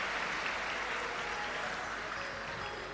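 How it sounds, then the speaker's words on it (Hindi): A crowd at a Shiv Mahapuran religious discourse claps to welcome the host families, a dense, continuous wash of applause that stays even and fairly distant for the whole stretch, with no voices over it. "एक बार सभी यजमान परिवार के लिए जोरदार ताली बजाकर स्वागत"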